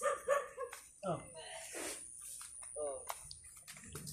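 A dog makes short yips and whimpering noises amid close conversation and household clatter.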